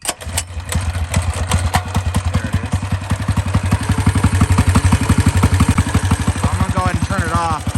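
A turbocharged Predator 212cc single-cylinder engine on a barstool racer cranks and fires, settling into a loud, close, rapid chugging idle with rattly clatter, and a voice speaks briefly near the end.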